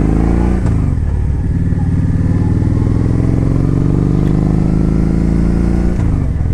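A 2013 Kawasaki Vaquero touring motorcycle rides along with a steady, loud engine drone and rumble, its pitch rising slightly with throttle and mixed with wind, shifting briefly near the start and end.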